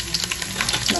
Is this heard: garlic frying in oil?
yes